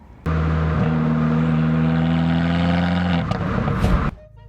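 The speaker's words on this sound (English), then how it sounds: "The exhaust? That's the legendary Record Monza system, and trust me, it screams." A car fitted with a Record Monza exhaust revs hard and holds a loud, steady engine drone for about three seconds, then climbs briefly before cutting back, close by and with no talk.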